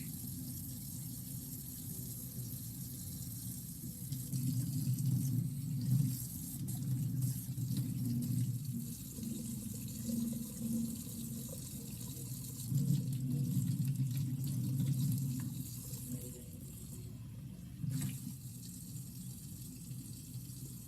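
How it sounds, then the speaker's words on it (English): Tap water runs steadily into a kitchen sink while dirty dishes are rinsed, a continuous hiss and splash with brief surges in flow, no talking. "Rinse off the item and place on a drying rack or on a towel."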